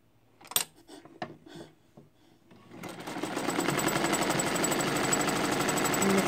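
An Emdeko sewing machine stitching fabric: a few slow, separate clicks and thumps first, then the motor speeds up into a steady, fast rattling hum that keeps building and holds to the end.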